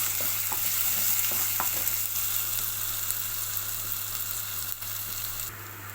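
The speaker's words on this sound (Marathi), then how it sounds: "मातश्यो तेलाक भाजूंक दी त्यो." Chopped onion, chili and tomato sizzle steadily in hot oil for a Goan-style sardine dish, a dense continuous frying hiss with a few soft stirring knocks near the start, no voices.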